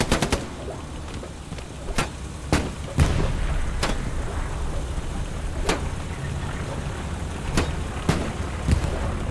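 Tank cannon and gunfire in the World War II shooter Hell Let Loose: sharp booms and cracks at irregular intervals over a constant rumbling battle din.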